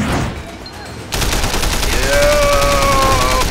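Gunfire in the video game Sleeping Dogs, a loud dense burst of shots that steps up sharply about a second in and keeps going, with tonal game sounds layered over it.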